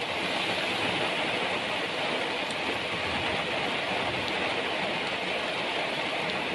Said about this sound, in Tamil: இடி மின்னலுடன் பெய்த மழையால் சாலைகளில் மழைநீர் பெருக்கெடுத்து ஓடியது.